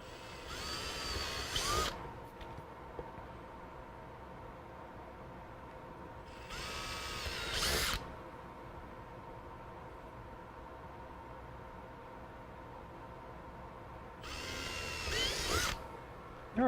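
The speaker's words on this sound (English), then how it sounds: "and there is all the pilot holes drilled." Short bursts of a power drill boring pilot holes into a plastic project box for power supply testing, three separate runs of a few seconds each with quiet pauses between, close and fairly loud.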